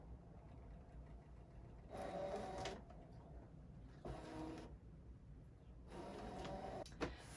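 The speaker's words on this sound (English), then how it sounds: "I'm putting my mat in so it bumps up against those two little bumpers and hitting this mat button." A craft cutting machine feeds in a cutting mat, its motor whirring in three short bursts separated by quiet pauses, close and moderately loud, ending with a small click.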